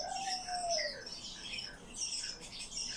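Swallow bathing in water, giving faint, high, short chirps and squeaks, with one thin descending whistle near the start, against quiet background noise.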